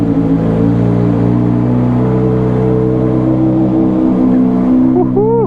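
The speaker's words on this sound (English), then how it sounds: "I'm going to leave my visor open so you guys can get the full effect of this thing starting." A 2008 Honda CBR600RR with a loud Toast aftermarket exhaust idles close by, a steady, heavy droning engine note that stays constant throughout, with a brief rising blip of revs near the end.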